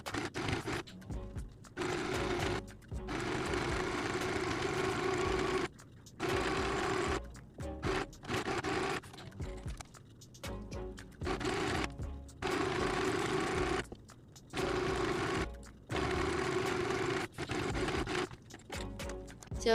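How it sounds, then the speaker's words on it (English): A sewing machine runs a straight stitch along the fabric of a garterized chain halter crop top, whirring steadily in long bursts with short pauses between runs. "We will be sewing a straight stitch going down from the 4-inch mark over here to here."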